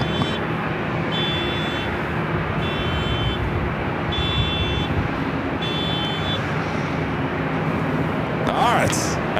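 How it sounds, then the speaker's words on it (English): A car alarm near a busy airport sounds a repeating electronic tone in evenly spaced bursts about every second and a half, over a steady roar of traffic and aircraft noise, with a voice talking. "most annoying car alarm I think I've ever heard."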